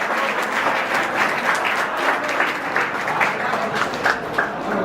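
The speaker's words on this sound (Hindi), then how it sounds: "और तालियां।" Dense audience applause at an award ceremony, many hands clapping together in a loud, even wash that holds steady throughout without a break.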